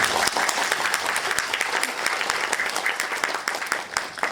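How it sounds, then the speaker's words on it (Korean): An audience claps at a film festival actor talk event, a steady dense round of applause filling the room throughout, with no other sounds standing out. "박수 한번 드릴까요?"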